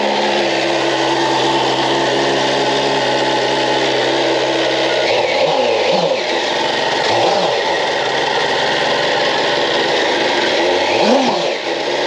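A BMW S1000RR superbike engine runs with a steady high-pitched whir, then rises and falls through a few revving sweeps, loud and close with no talking.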